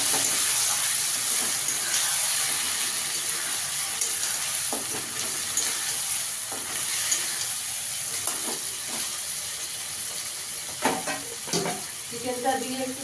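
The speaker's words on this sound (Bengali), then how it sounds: "আদা রসুন বাটাটা দিয়ে কষিয়ে নিয়ে এবার চিকেনটা দিয়ে দেবো" Marinated chicken fries in a pan with ginger garlic paste for pulao, giving a steady close sizzle and hiss broken by occasional stirring scrapes and clinks.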